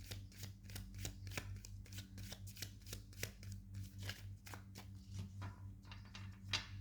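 Tarot cards riffle and snap in quick, regular bursts as the deck is shuffled and cards are pulled from the bottom. The sound is close but fairly quiet, a crisp rhythmic flutter that repeats steadily with no talking.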